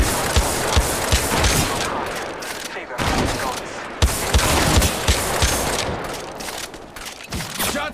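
Continuous rapid gunfire crackles through an Apex Legends Mobile match in a sniper and shotgun mode, with dense automatic bursts and sharp individual shots close by. A brief gap around the third second breaks the firing, with faint in-game voice callouts under it.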